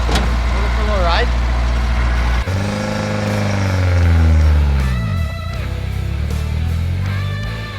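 A car engine runs steadily and loud through a ride, its low rumble shifting in pitch as it revs up and settles, with a clutch that may be wearing out; a brief pause early on and some background voices blend in.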